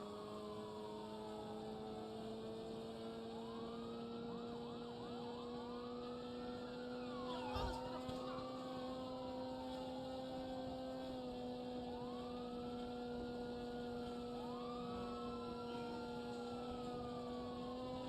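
A police siren wails in GTA Online, rising and falling steadily in several overlapping sweeping tones over a constant low engine drone, with a brief thump midway.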